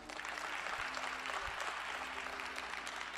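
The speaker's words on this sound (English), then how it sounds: "Give a round of applause." A small forum audience applauds an international guest from Brazil, a steady wash of distant clapping that fills the room evenly for several seconds with a low hum beneath.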